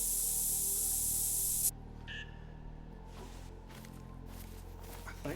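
Spray burst in a realistic waterfowl hunting video game, a loud steady hiss lasting under two seconds that cuts off sharply, followed by quiet game ambience with faint soft rustles.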